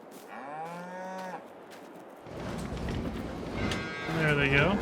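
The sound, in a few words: cows mooing in a cow barn in the video game Farming Simulator 22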